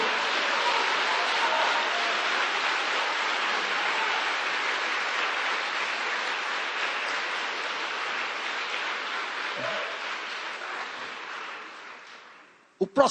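Congregation at a church service applauding strongly, a dense, steady wash of clapping that holds for about twelve seconds before fading out, with a few brief sounds at the very end.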